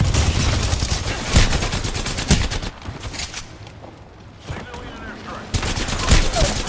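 Dense video-game gunfire crackles in heavy bursts, thinning briefly in the middle before loud shots return, with a voice talking over parts of it.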